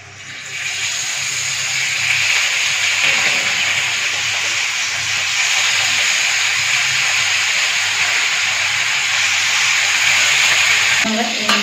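Ginger and garlic frying in hot oil for Kerala-style fish pollichathu, a loud continuous hissing sizzle that holds steady for the whole stretch, with no speech over it.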